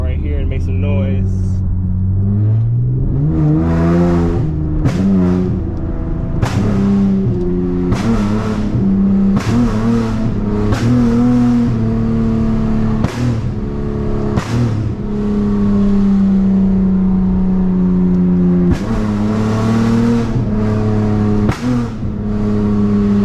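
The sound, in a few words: catless flame-tuned V6 Dodge Charger engine revving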